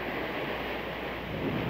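Waves from the sea crash during a coastal tidal flood (rob) on Indonesia's north Java coast. They make a dense, continuous wash of surf and roar. Wind buffets the microphone throughout and no one speaks.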